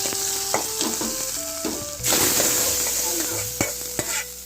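Onions sautéing in a pan for a lunch of rasam and kootu: a steady close sizzle with frequent sharp scrapes and knocks of a spoon stirring against the pan, continuous throughout.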